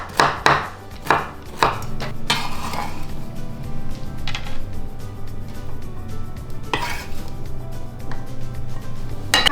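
Guacamole ingredients are finely chopped with a knife on a cutting board, with sharp, close, irregular thuds that come in quick bursts and then thin out into scattered knocks against a low kitchen background.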